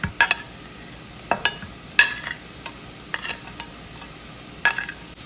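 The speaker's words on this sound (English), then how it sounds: "So now we will put into the pan the garlic" Garlic and onion fry in a pan at low volume, a soft background sizzle broken by sharp scraping and clinking stirs against the pan at irregular intervals.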